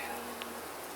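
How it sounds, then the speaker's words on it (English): Honeybees buzz softly in an open hive during a calm inspection done without smoke, a faint, steady hum over about a second. "these bees are nice and docile still"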